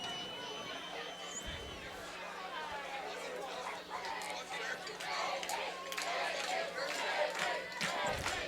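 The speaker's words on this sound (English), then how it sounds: "a very vocal crowd here at Lakeland Stadium" A vocal high school football crowd at Lakeland Stadium, with a student section nearby, chatters and cheers in a steady babble that swells louder toward the end.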